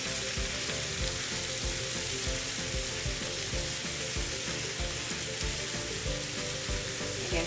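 Garlic shrimp sizzling steadily in a hot pan over a high flame, with rhythmic scraping and clacking as the mixture is stirred and tossed, close and continuous with no voices.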